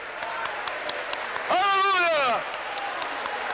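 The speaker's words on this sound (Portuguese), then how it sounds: "Vamos aplaudi-lo com força." A church congregation applauds steadily throughout, a continuous patter of clapping beneath a preacher's loud, drawn-out shout in the middle.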